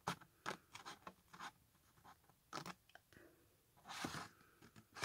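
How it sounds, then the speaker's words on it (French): Scissors cutting folded paper straight along the crease: close, soft crunching snips in short uneven bursts, quiet and alone with no speech. "Donc, je vais couper au niveau de mon pli,"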